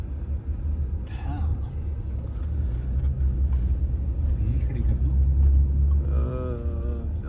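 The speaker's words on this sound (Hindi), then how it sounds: "अब्बू हमारे गाड़ी चला रहे हैं" Car engine rumbling low and steady as it drives into an airport in Jeddah, with a voice talking briefly over the motor near the end.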